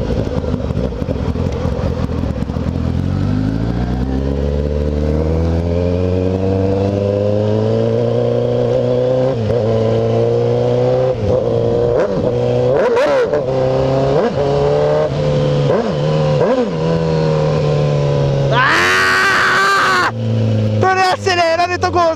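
A Kawasaki ZX10R sport motorcycle with a straight-pipe exhaust revs loud and close, its engine pitch climbing steadily through the gears with brief drops at each shift, while a rider talks excitedly over the roar.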